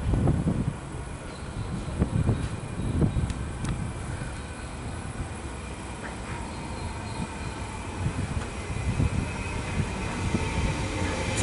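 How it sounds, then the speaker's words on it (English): A Melbourne HCMT train rumbles into Narre Warren station steadily with low, continuous rolling noise and occasional metallic clicks and squeaks, fairly close, with no talking. "You've got a train arriving."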